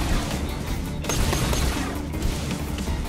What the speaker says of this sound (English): their shots are zapping away my super cool shield